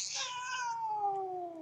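A pet cat gives one drawn-out, falling meow, close and clear, with no other sound around it.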